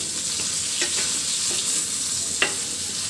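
Steady, close sizzling of pointed gourd frying in a hot pan, with occasional soft clicks from stirring.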